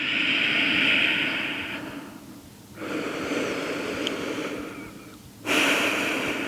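Slow, deep breaths during a vinyasa yoga session, each long inhale and exhale rushing close and loud in a steady cycle, with no talking.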